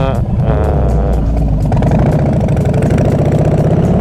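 A Harley-Davidson FXDR motorcycle is ridden with a loud, close, deep engine rumble that runs continuously. A throttle surge comes early, then a steady pulsing thrum follows, with someone talking briefly at the start.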